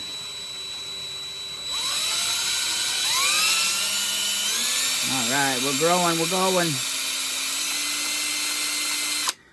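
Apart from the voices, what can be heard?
drill boring a small pilot hole, Honda CL350 restoration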